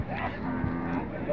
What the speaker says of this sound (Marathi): म्हैसुरी वासर आहे मित्रांनो